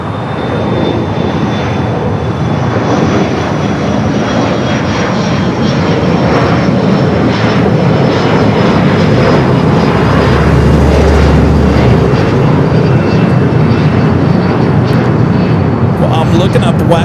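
Airliner taking off from runway 25 right at LAX, a loud sustained engine roar and rumble that swells and holds steady, with a thin whining tone threading through it.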